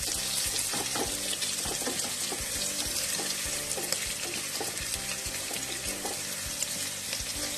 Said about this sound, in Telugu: ఇదిగోండి ఉల్లిపాయలు బ్రౌన్ అయిపోయింది, బాగా వేగింది